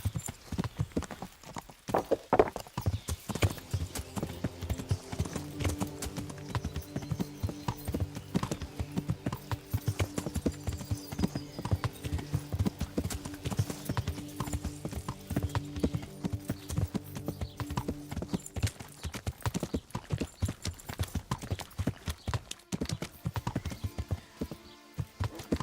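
Galloping horse hooves while riding in Kingdom Come: Deliverance, a medieval role-playing game, pounding in a fast, unbroken rhythm for the whole stretch, loud and near over a low tonal background, with no talking.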